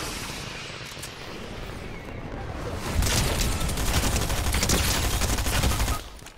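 Sustained rapid gunfire from a Fortnite match, a dense unbroken volley that swells louder midway and runs for several seconds before cutting off, with no talk over it.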